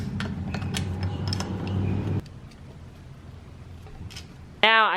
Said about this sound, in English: I'm going to go ahead and take the bolts off of the RBC manifold